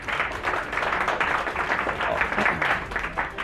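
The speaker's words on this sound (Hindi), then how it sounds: "जोरदार ताली हो जाए शिल्पा के लिए" Loud, sustained applause from an audience honoring Shilpa Yadav, a successful student now with UP Police, dense clapping continuing evenly throughout without talk.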